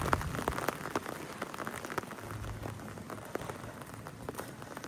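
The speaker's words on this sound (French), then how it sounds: "la pluie elle s'est calmée" Rain in Morocco has eased to a lighter, steady patter, with scattered drops tapping a nearby surface at a low, even level and no voices.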